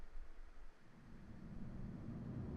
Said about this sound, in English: Is it raining now?